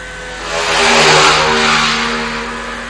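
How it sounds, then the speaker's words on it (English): An Aprilia racing motorcycle roars past at a road race, with its engine note rising to a loud peak as it nears and then fading as it moves away. "Pretty nice bike that he's riding there, Vanderburg Aprilia."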